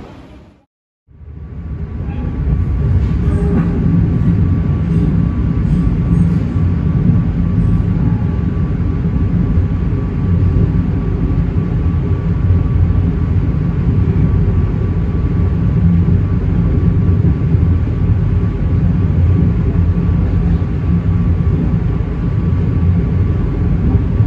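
Locomotive on a Bandung–Surabaya rail trip rumbling past, a loud, steady, broadband roar that rises abruptly after a short silence and holds for over twenty seconds without speech.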